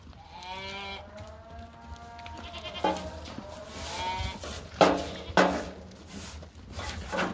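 Goats in a herd of about seventeen on a farm bleat repeatedly, several calls overlapping at close range, with occasional handling noises and little talk.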